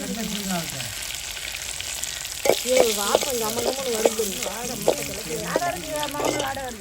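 Mustard seeds and curry leaves frying in hot oil for a dried-fish curry, a loud continuous sizzle and crackle close by, with a voice talking over it.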